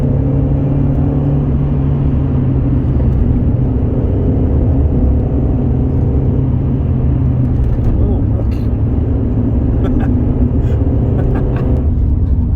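A Morris car is driven hard along a road, its engine a loud, steady low drone with humming tones that rise and fall as it goes, with someone talking over it throughout.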